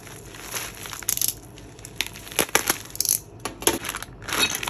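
A package of loose screws and bolts for an under-desk cable tray, shaken so the metal parts rattle and clink in irregular bursts, close and fairly loud, inside crinkling wrapping.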